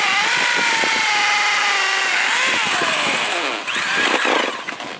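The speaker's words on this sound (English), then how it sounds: "it's a matter of drilling the live rock using" A power drill bores into live rock for a reef tank, a loud, steady high whine running throughout with pitch shifts near the end.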